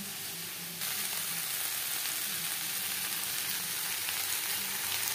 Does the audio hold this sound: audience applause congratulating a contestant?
no